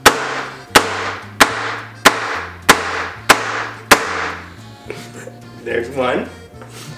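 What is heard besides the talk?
knife chopping onions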